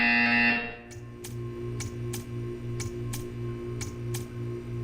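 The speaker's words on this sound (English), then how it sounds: "You will hear a buzzer." A loud electronic buzzer from the video game Portal 2 sounds briefly at the start and then cuts off. Soft, evenly spaced ticking and a low background hum follow, with no talking.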